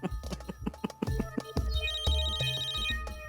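Incoming-call ringtone on a mobile phone, a melodic electronic tune with quick repeated notes and a held high tone, heard clearly at moderate volume over background sound.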